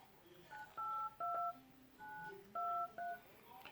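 A phone dials out during a call on an LG G6 or HTC U Ultra smartphone, a quick series of clear touch-tone beeps in uneven groups, quiet against a faint room background.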